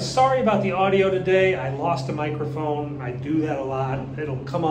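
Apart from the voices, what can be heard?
None of the usual background noises is heard.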